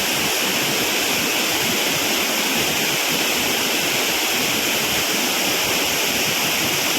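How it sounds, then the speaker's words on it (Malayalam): The small Njandirukki waterfall at Velliyamattam, Kerala, roars loudly and constantly nearby, a thick rushing wash of falling water with no breaks and no voices. "ഇവിടെ ഒരു ചെറിയൊരു വെള്ളച്ചാട്ടമാണ്"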